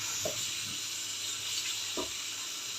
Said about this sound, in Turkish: Temiz suyu böyle temiz suyla yıkayacağız mis gibi.